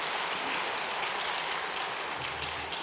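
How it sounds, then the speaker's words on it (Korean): A church congregation at a Sunday worship service applauds to welcome visiting missionaries. The clapping is steady, dense and continuous throughout, with no talking. "잠깐 자리에 일어나 인사하실 때 우리 박수로 환영하도록 하겠습니다"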